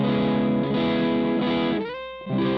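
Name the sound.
electric guitar with 1000 picofarad treble bleed capacitor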